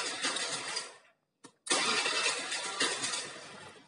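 A motorcycle electric starter cranks briefly, cuts out, then the engine catches and settles into a steady, close idle.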